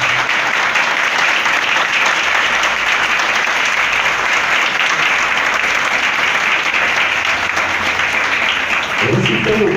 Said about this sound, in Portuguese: todo mundo vai aplaudir com muita alegria